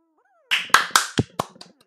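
A handful of sharp claps rings out in an uneven burst at an award ceremony in the video game Youtuber's Life, quickly thinning away after a faint rising whistle-like tone.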